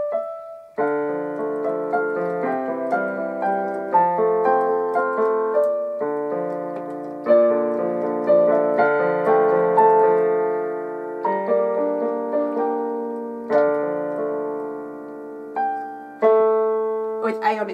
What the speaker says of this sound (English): If you're doing the broken chords, it will sound like this.